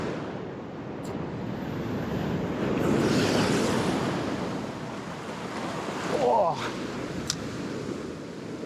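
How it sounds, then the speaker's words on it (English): Ocean surf washes and splashes against a rocky Australian shoreline during salmon fishing, a steady roar with a swell mid-way and a sharper splash near the end, mixed with gusty wind buffeting the microphone. "wave just splashed up my back"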